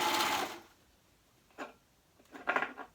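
A serger sewing machine stitching fabric for a maxi dress, heard as a short whirring burst at the start followed by two quieter brief runs of stitching near the end, close and alone.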